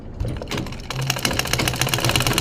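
A sewing machine stitching side piping onto a kameez, its rapid needle clatter starting after a brief pause and running on close and steady.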